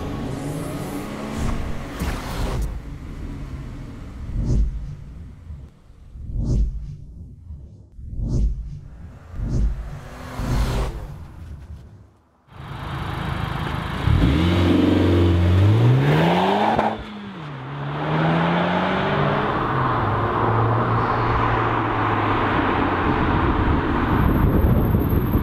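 A 2017 Honda Civic Type R engine revs in repeated sharp bursts, then runs through a longer sustained pull with rising and falling tones, loud and close.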